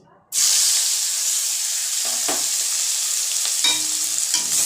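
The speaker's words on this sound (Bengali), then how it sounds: "এবার পেঁয়াজ কুচিটাকে তেলের মধ্যে দিয়ে দিচ্ছি" Chopped onion from a large onion drops into hot oil after a brief near-silence, setting off a sudden loud hiss that settles into a steady, close sizzle with a few faint clinks of stirring.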